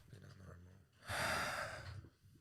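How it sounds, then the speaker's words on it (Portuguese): A man demonstrating his labored breathing during an allergy attack, a quiet strained inhale followed by a louder, harsh, wheezy exhale close to the microphone. "Essa era a minha respiração."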